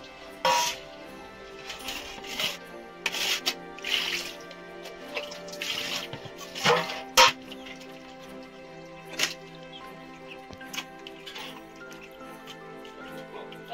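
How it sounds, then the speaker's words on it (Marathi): Water sloshes and splashes in a basin as fish are rinsed by hand, with irregular splashes and drips, close by. "2 ते 3 पाण्यातनं काढून घ्यायचे, जेणेकरून पूर्ण एकदम साफ धुवून होतील."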